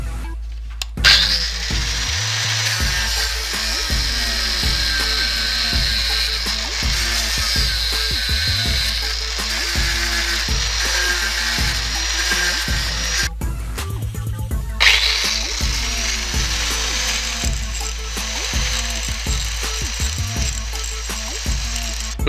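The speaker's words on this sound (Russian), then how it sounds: "Ну а теперь смахнем все лишнее болгаркой." An angle grinder whines loudly against welded metal, its high screech running continuously with brief pauses and the motor's pitch shifting as it bites.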